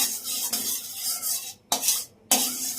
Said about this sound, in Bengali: তেলটা পুরো কড়াইয়ের মধ্যে আমি লাগিয়ে নেব